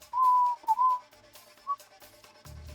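Person whistling short tones near a doorway, with a couple of sustained notes at the start and a brief chirp afterward, moderately loud against quiet background.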